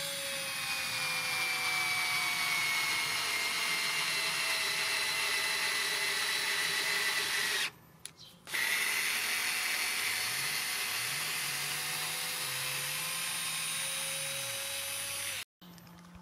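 A small Beaspire 4V cordless screwdriver drives a 4 cm screw, giving a steady close whine with rising motor tones as it loads up. The whine stops briefly, then resumes and cuts out at the end.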